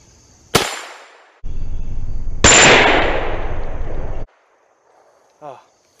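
Shots from a 9mm carbine that takes Glock magazines, fired at aluminum targets on an outdoor range: a sharp crack, then a second, louder report with a long, ringing decay, a sustained roar between the two, and a brief faint sound at the end.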